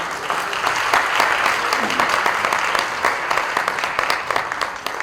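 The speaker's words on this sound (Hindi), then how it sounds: "जोरदार तालियों से स्वागत।" Hearty audience applause welcoming a guest at a centennial celebration for Ustad Bismillah Khan, steady, full clapping from a crowd sustained throughout with faint voices underneath.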